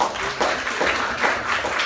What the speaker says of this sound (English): Please, everyone, give her a round of applause.